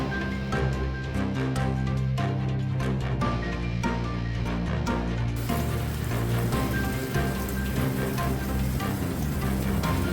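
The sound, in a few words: nickel-size hail falling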